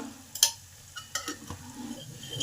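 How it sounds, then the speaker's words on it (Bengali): Sugar being stirred into a soft-cooked papaya curry in a pan: a few quiet strokes of a spoon scraping and clinking against the metal, with a light sizzle underneath and no voices. "চিনিটাকে ভালো করে তরকারির মধ্যে মিশিয়ে দিলাম"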